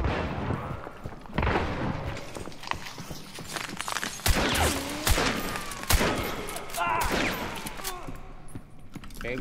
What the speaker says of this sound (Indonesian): Kayaknya gue ditembak temen.